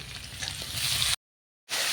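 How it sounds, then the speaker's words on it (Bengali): Potato and tomato pieces fry in oil in a wok, giving a close, steady sizzle that cuts out abruptly for a moment and then resumes. "আলুটা ভাজা ভাজা হয়ে গিয়েছে, টমেটো দিয়ে দেবো।"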